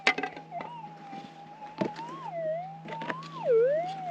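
Gold nugget signal from a GPX 6000 metal detector sweeping over a nugget lying right on the surface in the Arizona desert: a loud, wavering electronic tone that rises and dips over a steady hum, with a few short knocks.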